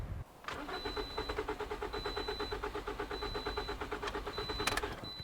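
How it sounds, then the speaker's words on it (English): A Toyota Corolla engine cranks repeatedly without firing, a fast rhythmic starter whirr that holds steady for several seconds, close and fairly loud, ending with a brief click. "So let me crank the engine and see what happens."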